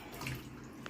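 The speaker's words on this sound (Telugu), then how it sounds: "ఈ ముక్కలు ఈలోగా మనం శుభ్రంగా కడిగి పెట్టుకుందాం" Water runs steadily from a tap as pieces of bottle gourd are washed clean in a home kitchen, a soft, faint gush that lasts only a moment.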